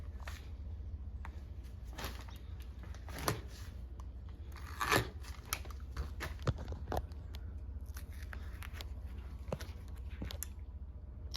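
Old rubber grips being cut off the handlebars of a Suzuki DRZ400 motorcycle, giving faint, scattered crunching snips and slicing sounds at close range, with no talk.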